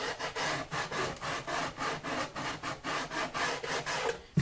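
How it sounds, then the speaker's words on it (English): Stiff sandpaper rubs back and forth around the soundhole edge of a Martin guitar's wooden top, a steady rhythm of dry, scratchy strokes, close and fairly quiet, with no talk. "I'm just using this stiff sandpaper like this to curve around the edges here"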